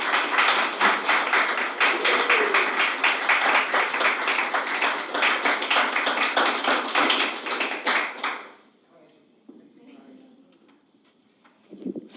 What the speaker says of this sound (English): Another applause for the mayor